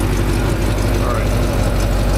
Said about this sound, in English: We are somewhere right around, looks like 700 RPM, maybe 750, which is about as good as we can get here